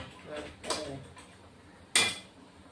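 A metal lid set onto a pot of tangra fish curry with lentil dumplings: a soft clatter, then a sharper, brighter clink of metal on metal, close and fairly faint against a quiet kitchen background.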